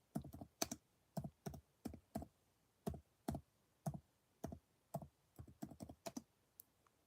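Keys on a computer keyboard are tapped in short, quiet bursts of clicks with brief pauses between words. The clatter is close but soft, and no voice is heard.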